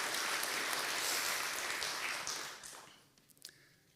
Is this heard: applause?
yes